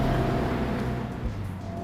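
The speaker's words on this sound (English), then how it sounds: "I really have no complaints with this engine because it's so willing to rev to the red line" A Honda Civic Type R, Renault Megane RS or Volkswagen Golf R hot hatchback engine revs hard toward the red line, a loud, sustained droning roar with a steady tone, close and uninterrupted by talk.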